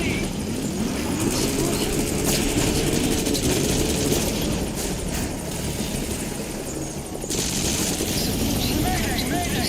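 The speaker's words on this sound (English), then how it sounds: "Shot down the chopper." A military helicopter in Metal Gear Solid 5: The Phantom Pain thuds loudly and steadily with rotor and engine roar, mixed with gunfire crackle and game noise throughout.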